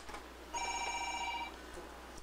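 A telephone rings once with a bright electronic bell tone lasting about a second, clear over a quiet room background.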